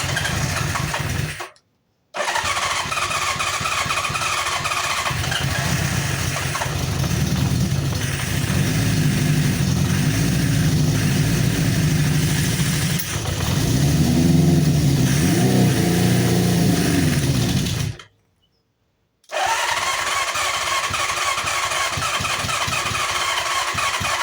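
A 1973 Honda CB500 four-cylinder motorcycle runs after a carburetor rebuild: loud, close engine idling and revving in swells, cutting out twice briefly before firing up again.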